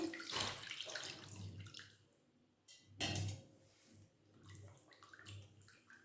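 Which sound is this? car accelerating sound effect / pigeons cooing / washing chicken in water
washing chicken in water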